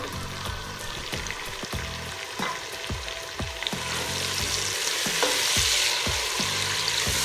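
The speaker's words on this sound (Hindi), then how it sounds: "टमाटर के गल जाने तक हम इस मसाले को भूनेंगे।" Spice masala with tomatoes, red chilli and coriander powder frying for lobia pulao gives a loud, steady sizzle with a rhythmic series of spatula scrapes and knocks against the pan, close and without voices.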